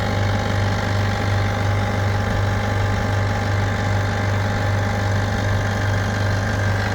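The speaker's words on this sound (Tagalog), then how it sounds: "Reclaiming machine." An Australian-made refrigerant reclaiming machine running steadily, a loud, close, constant motor drone with a strong low hum and even mechanical whir, no variation and no voices.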